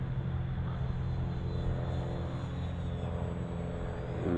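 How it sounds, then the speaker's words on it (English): An E-Flite radio-controlled float plane flying in low over a flying field, a steady droning motor hum with a low rumble, moderately distant and continuous, without talk. "Get a shot of the float plane coming in here"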